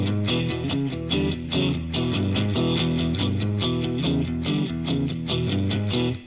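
Sped-up electric guitar playing a Texas blues shuffle rhythm, a steady, dense chugging pattern of repeated chords that runs loud and continuous throughout with no talking.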